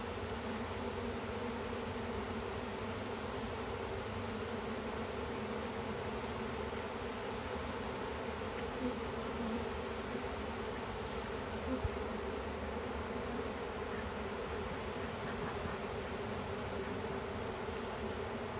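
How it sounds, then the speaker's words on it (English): Honey bees buzz steadily around a hive in an Alaskan apiary while a package colony is being hived, a dense, continuous drone of many wings at moderate level with no talking. "More bees flying around, isn't there?"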